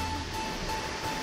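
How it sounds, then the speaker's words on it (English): A steady, full rushing roar of falling water, close and unbroken, with no voices. "It's called a waterfall."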